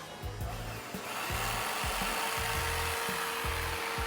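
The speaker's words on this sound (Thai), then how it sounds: "นี่คือเสียงการเจาะเสาเข็มของเรา" A foundation-pile drilling rig works at a home garden site, giving a steady whirring, vacuum-like drone with a repeating low, rhythmic chugging pulse roughly twice a second, at moderate distance.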